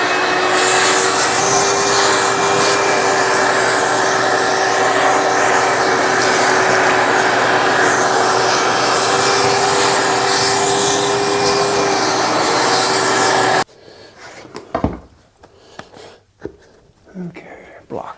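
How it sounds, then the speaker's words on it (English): A vacuum cleaner sucks debris out of a woodworking workpiece during a bench build, a loud steady whine and rush lasting about fourteen seconds, then cutting off to leave faint knocks and handling noises. "Let's vacuum it out and find out."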